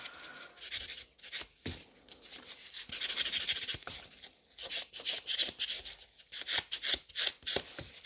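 A nail file rubbing across gel nail extensions on short, bitten nails, in quick close bursts of scratchy strokes with brief pauses between passes, faint and without speech.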